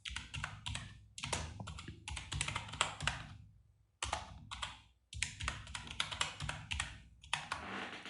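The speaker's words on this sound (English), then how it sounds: "So I'm typing ink splash slideshow." Quiet, rapid clicking of keys on a computer keyboard as text is typed, coming in several bursts separated by short pauses, close and soft, with no voices.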